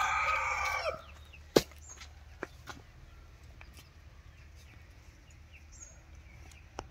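A fighting rooster being readied for Sankranti cockfights crows loudly and close for about a second, followed by quieter outdoor rustles and a sharp knock.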